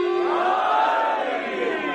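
A crowd chants the Haidari slogan together in a sustained, swelling unison cry that holds for a couple of seconds, loud and fairly close.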